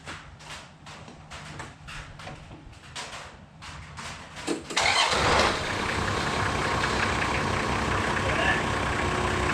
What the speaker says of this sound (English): kick her over and see if she runs